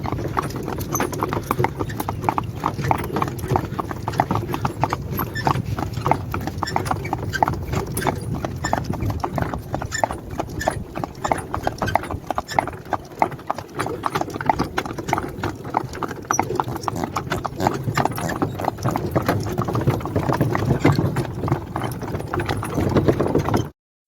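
Draft horses walk on a hard surface, their hooves clip-clopping in a steady, rapid rhythm that continues throughout, close and fairly loud, with a faint engine-like hum in the background.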